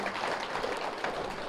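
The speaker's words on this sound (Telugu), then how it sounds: "గట్టిగా చప్పట్లు కొడదాం." Crowd applause at an outdoor vegetarian rally in Vinukonda forms a steady, fairly faint wash of clapping with no voices over it.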